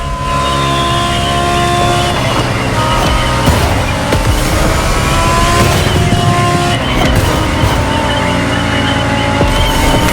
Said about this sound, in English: you're driving a Lamborghini Huracan Performante with a special Liberty Walk performance flavor